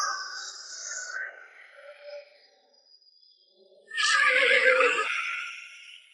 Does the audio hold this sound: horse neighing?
yes